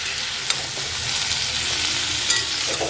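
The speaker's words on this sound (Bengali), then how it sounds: "ভালো করে সবজিটাকে নেড়ে নেব।" Mixed vegetables with tomato, salt and turmeric are stirred in a hot pan, giving a steady sizzle with soft scraping strokes and a couple of brief clicks, no voices.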